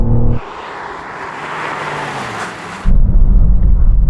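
A car braking hard from 100 mph on cold tyres and cold brakes, a loud rushing roar of tyre and wind noise lasting a few seconds, broken off abruptly as a deep, steady engine rumble takes over.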